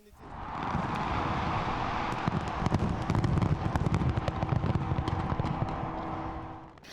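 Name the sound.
fireworks display over the Arc de Triomphe in Paris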